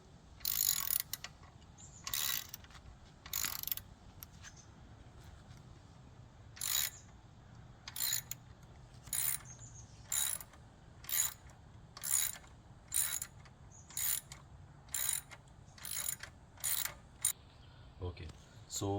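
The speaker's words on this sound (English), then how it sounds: "Let me open the below screws also," A ratcheting tool loosens and removes screws from the leg guard of a Royal Enfield Super Meteor 650, sharp close clicking bursts repeating in short runs with brief pauses between, no speech over them.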